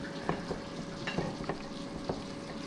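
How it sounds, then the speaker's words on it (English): Eggplant lasagna ingredients are mixed by hand in a bowl, giving soft, wet squelching and rustling with small irregular bumps over a steady background hiss. "I'm going to mix it all up."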